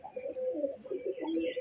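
Pigeons in breeding condition, among them a white pigeon, coo in a soft, low, throaty burble nearby, with a brief higher call rising at the end.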